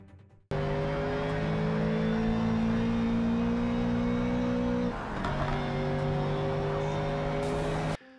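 Race car engines in the racing game Project CARS 3 drone loud and steady, holding a high tone before shifting down briefly mid-way and climbing again, running continuously with no talk.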